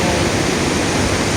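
Steady rushing water of a river flowing through a tunnel, a dense continuous roar that stays even and close throughout.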